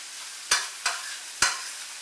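Mexican-style corn cooking down in a skillet, a steady sizzle with three sharp stirring scrapes.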